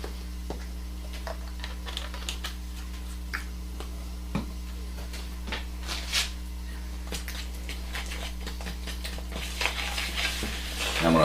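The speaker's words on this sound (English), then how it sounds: "I'm going to mix this all together" Cinnamon swirl quick bread batter being stirred together by hand in a bowl, with scattered clinks and scrapes of a utensil against the bowl over a steady low hum, no talking.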